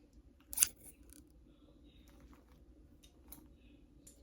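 Scissors snip through paper for a DIY cork board, one sharp, close cut standing out early, followed by fainter rustling and small clicks over a low background hum.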